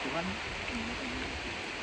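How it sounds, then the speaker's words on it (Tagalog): Steady outdoor rain hisses continuously at low level, a dense wash of falling water with faint voices murmuring beneath it. "Ulan pa naman."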